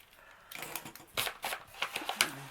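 An eraser rubs out pencil marks on a holiday paper craft, a run of quick, close scratchy strokes in short uneven bursts, soft and dry with brief pauses between them.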